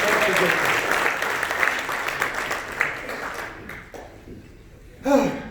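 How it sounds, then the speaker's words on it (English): A room of people at a training tour event claps in a sustained round of applause that thins out toward the end, followed by a brief burst of voices. "Give them a round of applause."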